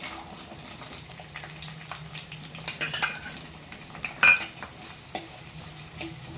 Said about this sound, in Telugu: ఆయిల్ వేడైందండి ఉల్లిపాయలు ఒక కప్పు ఉల్లిపాయలు వేసుకుందాం